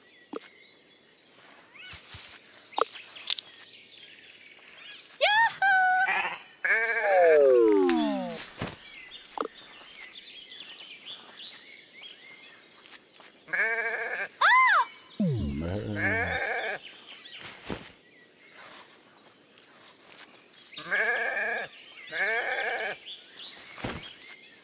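Cartoonish sheep bleat in the turn-based exploration game Renowned Explorers, with several wavering calls in quick bursts among soft game clicks and effects and no talk.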